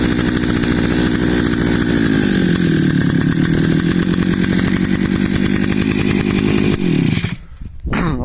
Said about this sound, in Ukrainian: За три шморгалки три рази і запустилась бензопила. Бензокоса.